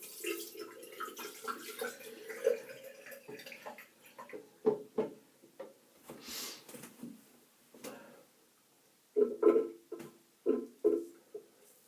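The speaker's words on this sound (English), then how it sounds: "So I'm going to wet the blade. Cold water." Cold tap water running over a razor blade in short bursts, close splashing and trickling with brief gaps between the rinses, fairly quiet, and no talking.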